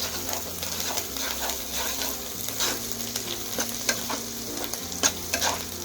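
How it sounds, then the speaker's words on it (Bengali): Mustard pomfret masala sizzles in a pan after turmeric and chili powder go in, a constant frying hiss broken by repeated scraping stirs of a spoon, close and fairly loud. "এখন আবারও কষিয়ে নিচ্ছি"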